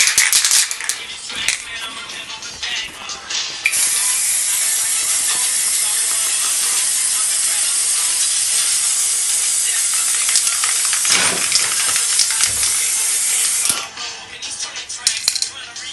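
A camo spray paint can hissing in long continuous bursts with short pauses, close and fairly loud, along with faint clicks and handling noise.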